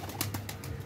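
Blue Neelay pigeons coo softly in a loft, with a few faint, short calls repeating close by over a steady low background hum.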